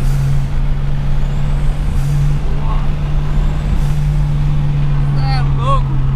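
Idling turbocharged car with a steady engine drone, followed by short hissing chirps from the turbo blow-off valve near the end, recorded close up.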